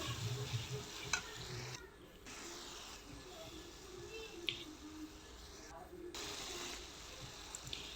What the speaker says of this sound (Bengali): এখন আমি মশলাটা হচ্ছে হালকা একটু কষিয়ে নিব।